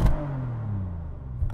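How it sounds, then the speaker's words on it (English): Bentley Mulliner Bacalar engine revved in neutral at a standstill in sport mode: a short loud blip opening the clip, then the revs sliding steadily down as the engine settles, with a second brief blip near the end. "Where it sounds best though, is when you're revving at a standstill."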